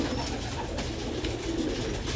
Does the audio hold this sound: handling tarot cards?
no